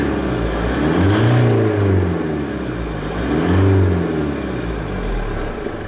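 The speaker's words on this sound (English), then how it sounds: "So let's just press the accelerator once again." A car engine revving as the accelerator is pressed during a test with an OBD2 scanner plugged in. Two loud surges rise and fall back to a steady hum, close up and with no talk.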